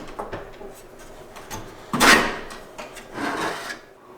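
A module is worked loose from a Checkmate monitor, with scraping and rubbing plastic sounds building to a firm pop and a second sliding scrape, close up and alone.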